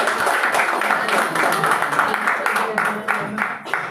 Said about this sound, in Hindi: एक बार जोरदार तालियां हो जाए टीम 2 के